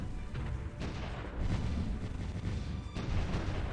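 Artillery fire in the war strategy video game Supreme Ruler Ultimate, a dense, continuous rumble of low booms and overlapping blasts at moderate loudness with no voices.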